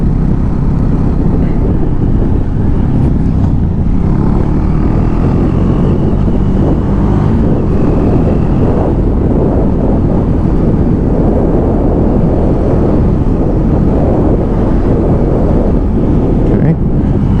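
Husqvarna 401 Svartpilen motorcycle on the move, a loud steady engine drone mixed with heavy wind buffeting at the microphone throughout.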